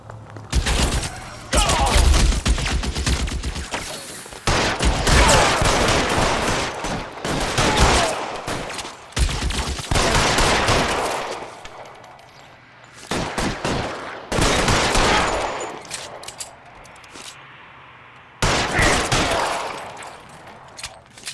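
Gunfire in a shootout in the video game L.A. Noire, loud, sustained bursts of rapid shots in several long volleys separated by brief pauses, close and dense, dominating throughout.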